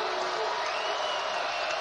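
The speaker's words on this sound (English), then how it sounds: "Husky crowd getting back into it" Home crowd at a Washington Huskies college basketball game against Auburn gives a steady, loud roar of cheering and noise, a dense wash of sound filling the arena with no break.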